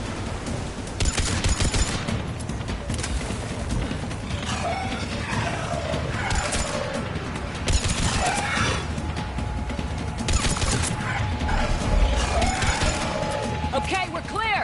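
Gunfire in the Mass Effect 3 video game, rapid weapon bursts and mechanical clatter running throughout a busy combat mix, with talk partly under it.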